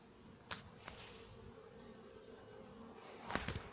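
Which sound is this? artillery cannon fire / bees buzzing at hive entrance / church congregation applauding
bees buzzing at hive entrance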